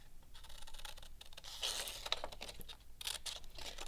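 Soft, uneven snipping and papery scraping, close and quiet, with a few brighter crisp cuts partway through.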